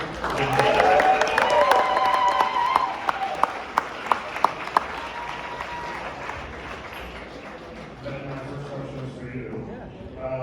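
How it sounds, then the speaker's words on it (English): A movie premiere audience applauds the cast and crew with a loud, full burst of clapping that gradually thins and fades, while people talk over it. "Another round of applause for our wonderful cast and crew."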